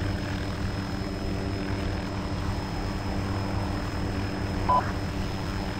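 A helicopter in the video game Arma 2 drones continuously with a steady, loud engine and rotor hum, plus a brief electronic beep near the end.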